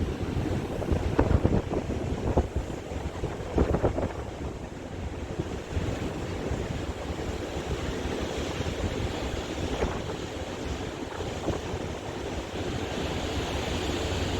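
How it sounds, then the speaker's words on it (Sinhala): Wind gusting across the bridge wing of a cargo ship at sea, a rough buffeting roar with stronger gusts early on and a steady rushing undertone, heard alone without talk. "පොඩ්ඩක් අර වින්ඩ් එක වගේ එකයි මේ සද්දේ ටිකක්"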